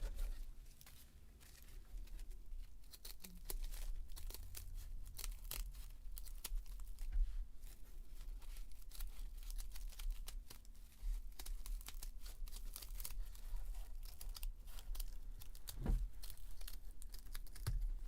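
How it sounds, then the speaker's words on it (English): Scissors snip around a paper circle on a tabletop during a Dollar Tree farmhouse craft, giving a steady run of close, crisp crinkling cuts and rustles that continue for the whole stretch. "And then you cut it with your scissors."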